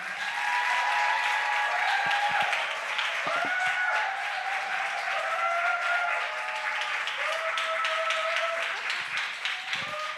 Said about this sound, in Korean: 우리 박수로 교수님 모시겠습니다.